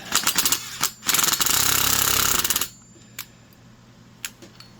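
An impact wrench with a socket works to loosen a nut on a Stanley trim router, with a few sharp taps, then a loud close hammering burst of about a second and a half, and finally a quiet stretch with scattered small clicks.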